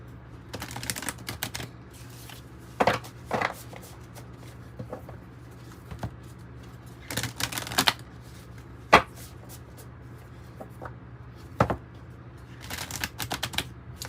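Tarot and oracle cards are shuffled in quick, scattered bursts of crisp flicking and riffling, close and fairly soft, separated by quiet pauses.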